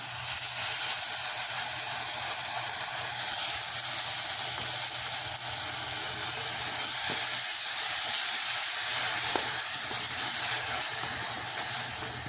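Tomato puree and masala sautéing in a pan for a Tamil chickpea kulambu, giving off a steady, even sizzling hiss that stays close and unbroken throughout.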